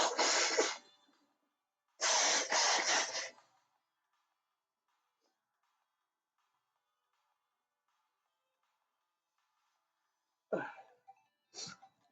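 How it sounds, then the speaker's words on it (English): A person blows their nose indoors in two long, loud honking bursts, followed after a quiet pause by a couple of shorter sniffs and snorts. "Enjoy the music while I blow my nose."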